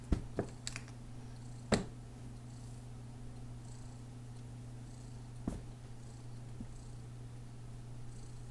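A domestic cat purrs close up in a steady, continuous low rumble, with a few faint taps and clicks over it.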